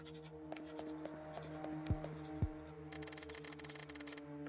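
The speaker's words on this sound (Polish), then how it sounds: "Pióro strasznie się unosi, pisząc na starych kartkach papieru." Scratchy pen-on-paper writing from the video game Pocket Mirror, a pen scraping across old paper in a steady run of strokes over soft background music, with a couple of low thuds partway through.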